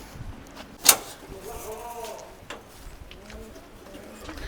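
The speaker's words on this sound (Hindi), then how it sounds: "अब हम आपको ना कबूतर दिखाते हैं हमारे जो कल आए थे।" Pigeons, including a black-tailed one, coo softly nearby at a goat farm, with low repeated murmuring calls and a sharp knock or door-like clatter early on amid light background noise.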